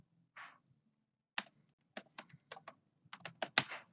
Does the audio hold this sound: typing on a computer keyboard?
yes